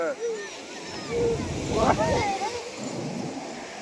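Sea waves break on the shore in a soft, continuous wash with one fuller surge in the middle, heard close by with wind buffeting the microphone as people talk and call out nearby.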